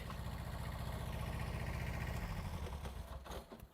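A Kubota tractor engine idles nearby with a steady, low, rhythmic throb that holds evenly, then wavers and fades near the end.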